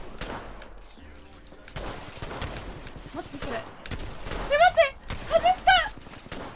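Rapid bursts of gunfire crackle through an Apex Legends fight, sharp volleys mixed with in-game effects and a voice talking over the action.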